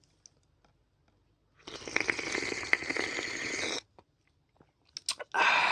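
Balut, a boiled duck egg seasoned with vinegar and salt, being slurped and chewed in one dense, noisy burst of close wet crunching that lasts about two seconds, then a few brief mouth clicks and a louder noise at the end.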